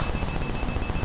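A little beep button on a London-themed toy gives a continuous electronic beep that holds steady and fairly loud for about a second.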